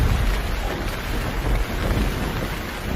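Heavy rain pours down in a jungle, a loud, dense, continuous hiss with a low rumbling undertone throughout.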